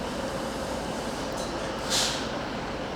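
A TransPennine Express intercity train approaching a station platform, a steady low rumble with a faint high squeal of wheels or brakes rising briefly toward the end, moderately distant.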